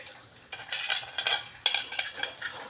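Bisugo fish, a Filipino fish, sizzles and crackles as it is placed in hot cooking oil, with a few sharp bursts of spattering and clinks of utensils close by, free of voices.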